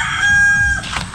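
A native rooster crows close and loud, a single strained, harmonic-rich call that fades out within about a second.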